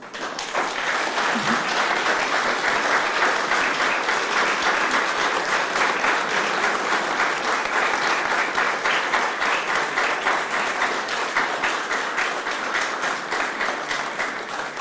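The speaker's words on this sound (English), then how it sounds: "So by this applause, which came even before my thank you to you" Dense, steady audience applause fills a hall at the German Council on Foreign Relations after a talk by Greek Prime Minister Kyriakos Mitsotakis, sustained and loud for the whole stretch, with no voices over it.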